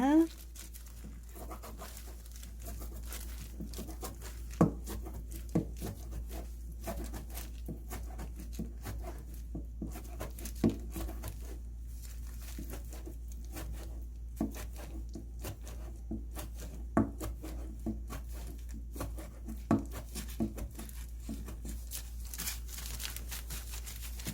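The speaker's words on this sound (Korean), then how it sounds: "저는 이거를 더 잘게 다지겠습니다" A knife mincing ingredients for perilla taro soup on a cutting board, giving rapid, repeated close-up chopping taps at an irregular pace over a low steady hum.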